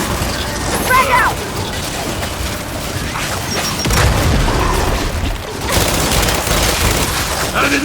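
Loud frag grenade blast in the shooter game Gears 5, a heavy boom with rumbling debris amid ongoing gunfire and combat noise, with game character voices over the action.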